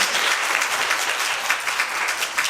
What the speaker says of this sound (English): Can I get another round of applause for our panelists today?